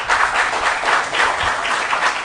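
A quiz-show studio audience applauds the contestants at the end of a hard-fought round, a steady, even wash of clapping at moderate loudness that carries on throughout without any talking.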